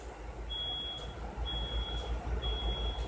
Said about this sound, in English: Fire alarm, fire alarm. Oh, it went off.